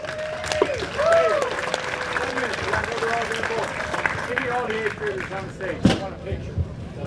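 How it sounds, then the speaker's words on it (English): An audience applauds a sixth-place team at a junior bass fishing championship, with sustained clapping and a few whoops and cheers mixed in, plus a sharp knock near the end. "Give them a round of applause."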